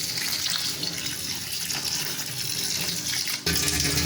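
Steady running tap water splashing over bitter gourd pieces in a sink, with hands rubbing them, a loud continuous gush that stays constant throughout.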